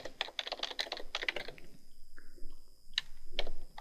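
Fingers typing on a computer keyboard, a quick close burst of clattering keystrokes, then a pause and a few scattered final key taps.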